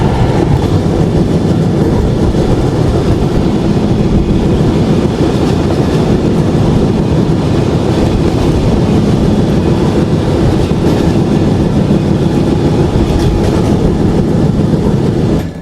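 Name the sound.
passenger train running on rails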